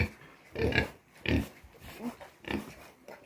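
Pigs on a pig farm in Assam give several short, soft grunts and snorts in an uneven rhythm, heard close against quiet surroundings.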